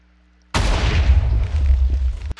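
A sudden loud TNT cannon explosion in a video game bursts out of silence, followed by a heavy rumbling decay that cuts off sharply after about two seconds.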